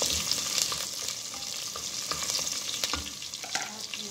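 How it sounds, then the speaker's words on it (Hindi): Green chillies frying with light golden garlic in a pan, a dense continuous sizzle with crackles and occasional stirring scrapes, close up and steady, no voices. "लहसुन जो है लाइट गोल्डन होने लगे तो अब हम इसके अंदर सब्ज़ मिर्ची जो है वो ऐड कर देंगे"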